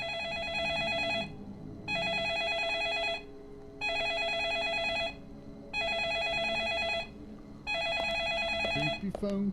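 A telephone rings in the video game Deadly Premonition, five loud, evenly spaced bursts of a bright electronic trill with short gaps between them, over faint background sound and brief talk.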